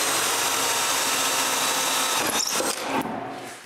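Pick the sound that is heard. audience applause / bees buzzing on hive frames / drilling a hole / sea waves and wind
drilling a hole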